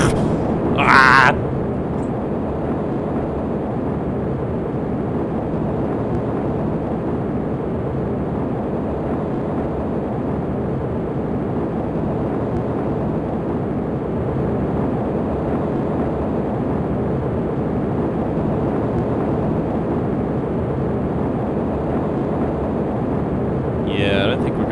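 Rocket engines roar in Kerbal Space Program, a loud, steady, broadband rumble that stays continuous throughout, with a brief voice near the start and again at the very end.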